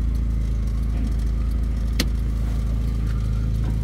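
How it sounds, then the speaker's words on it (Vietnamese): A Daewoo Gentra's engine runs at a steady idle with a low continuous hum and rumble, close and even throughout, with one brief sharp click midway. "để các bạn cảm nhận được cái tiếng động cơ"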